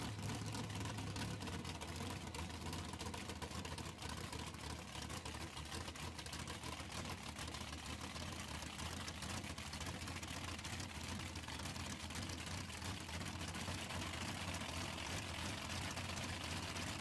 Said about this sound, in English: it sounded like the car was kind of missing out there